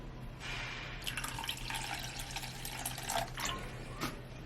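Vinegar trickling into a spoon over a kitchen counter while making kimchi, a thin steady drip-and-pour of liquid with faint splashes, close up and without talk.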